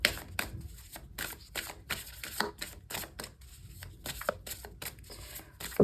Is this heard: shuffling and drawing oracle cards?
yes